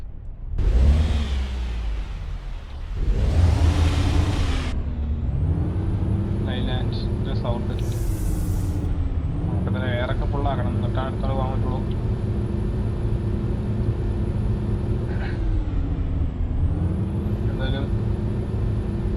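A video game vehicle engine revs and drives, its pitch rising and falling in repeated surges as it accelerates, loud and close, with a voice talking over it.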